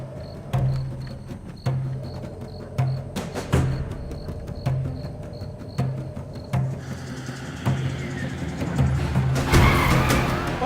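A car in a Hindi action video brakes to a halt, its tires squealing and skidding in a rising hiss at the end after repeated rhythmic thumps and steady engine drone, with no talk.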